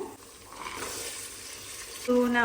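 A tomato rice base fries in a pan as soaked peas are added, giving a short burst of broadband sizzling and stirring that ends with a brief ringing utensil tone.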